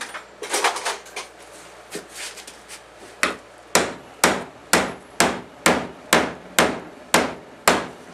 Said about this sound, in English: I'm going to nail these two boards together and then try it out.